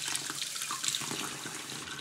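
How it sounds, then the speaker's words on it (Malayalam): Cold water runs steadily from a kitchen tap, a continuous hissing splash while making homemade paneer, close and moderately loud with no talking. "ടാപ്പിൽ നിന്ന് കുറച്ച് പച്ചവെള്ളം അങ്ങോട്ട് ഒഴിക്കുക"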